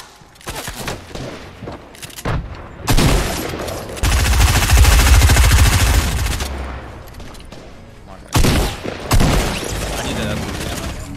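Rapid SMG bursts ring out in a video game firefight, loud close volleys interrupted by pauses, with a long sustained stretch of fire in the middle and further short bursts near the end, with players talking over it.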